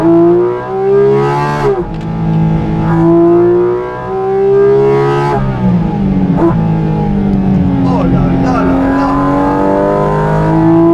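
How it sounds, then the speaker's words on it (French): A Porsche GT4 RS with a dual-clutch gearbox revs hard, its engine and air intake rising and falling in steady pitch sweeps through several throttle blips, loud and close, with a voice talking over it. "Écoutez ce bruit. L'admission d'air qui vient de là."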